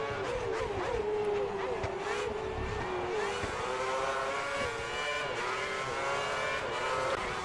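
Formula 1 race cars in the video game F1 2010 scream along steadily, a high engine whine shifting slightly in pitch as cars run close together on a straight, sustained and fairly loud with no talking.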